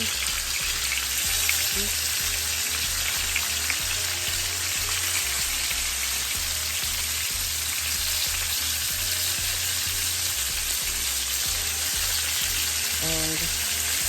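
Pork chops frying with onions, peppers, garlic and hot pepper give a steady, close sizzle like rain on a hot pan, with a faint low rhythmic hum underneath and a brief voice near the end.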